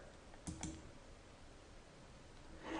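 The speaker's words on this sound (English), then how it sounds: "I'm going to click a red X to close the chart" A computer mouse clicks to close a chart window in practice-management software, a quick double click near the start with faint desk noise afterward and a soft knock at the end.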